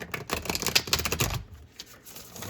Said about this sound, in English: I'm going to give these cards one more shuffle